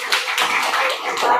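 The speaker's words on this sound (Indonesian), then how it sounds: "Ya, tepuk tangan semua ya." Classroom audience in a school teaching-practice session clapping hands together, a dense patter of many claps sustained for over a second at moderate loudness, with faint voices mixed in.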